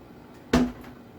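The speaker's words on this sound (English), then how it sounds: "I gotta close the coin door." The coin door of a Whirlwind pinball machine shuts with a single sharp metallic clunk and a brief rattling ring-out. The sound is close and stands alone against quiet room background.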